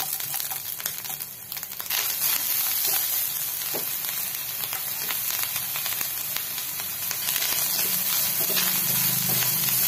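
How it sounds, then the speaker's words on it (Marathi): Grated coconut roasting with jaggery in a hot pan, a constant loud sizzle and crackle with occasional scraping stirs throughout, no speech. "चांगला आधी भाजूया आपण खोबऱ्याला।"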